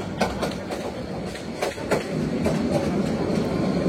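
The Mohanagar Godhuli Express rolls slowly toward the Tongi Junction platform, its wheels giving a steady run of rhythmic clickety-clack beats over the tracks beneath a constant rumble, with no voices.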